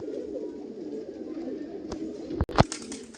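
Close, continuous low cooing comes from a male and female pigeon pair of the Kala Sabuj or Paschima breed kept for sale, with a couple of sharp clicks and a brief thump near the end.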